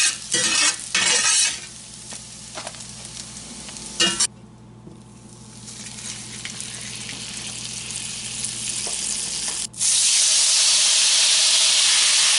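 Potatoes fry in a pan with a loud, close, continuous sizzle and hiss. Occasional stirring scrapes come in early, and the crackle rises sharply near the end.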